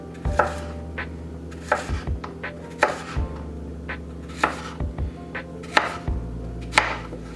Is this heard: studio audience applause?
no